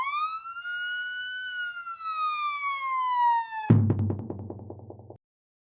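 An ambulance siren wails loud and close in one long tone that slides slowly downward for several seconds, then cuts abruptly into a short burst of clattering, harmonic sound.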